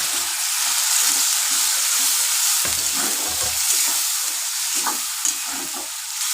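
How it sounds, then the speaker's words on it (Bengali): Chicken curry masala with a splash of water sizzles loudly in a pan while being stirred, a steady close frying hiss with repeated scraping strokes of the spoon and no talk. "এবার এটাকে কষাতে থাকবো।"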